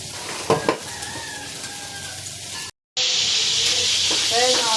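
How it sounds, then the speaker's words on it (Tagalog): Pork sizzling as it is sautéed in a pan, a steady close hiss with a brief scrape near the start, a short gap of silence, then a louder, brighter frying hiss, with faint voices over it. "Simula na po tayo mag-gisa."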